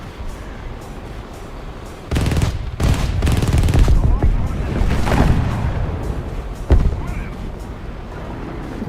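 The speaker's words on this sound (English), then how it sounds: "I'm gonna try to strafe again" Aircraft cannon and machine-gun fire while strafing in War Thunder, arriving as loud, dense rattling bursts over several seconds, then a single sharp blast later, all over a steady engine drone.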